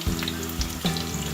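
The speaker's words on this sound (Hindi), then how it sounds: "प्याज डाल के ब्राउन करना है। प्याज ब्राउन हो रहे हैं।" Onions frying until brown in oil in a pot, a loud, steady close-up sizzle with a few soft stirring bumps and no voices.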